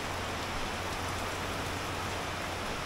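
Heavy rain from Typhoon Egay pours down in a dense, steady hiss, close and loud with no break and no voices.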